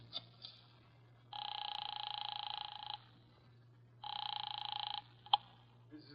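Office telephone in a radio drama, with two long electronic ring tones separated by a pause over a steady low hum, followed by a few faint clicks.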